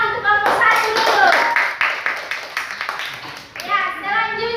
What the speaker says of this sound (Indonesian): Kita berikan tepuk tangan untuk kelompok 1 dulu.